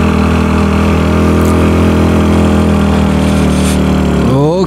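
A self-built motorcycle engine idles steadily and loudly close by on a wet mountain road before dawn, a constant mid-pitched drone that revs up briefly at the very end.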